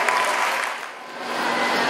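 Audience applause for the pupils of SD Negeri 006 Teluk Pintang at a school event, a dense, steady wash of many hands clapping that dips briefly midway then swells again, with no talking over it.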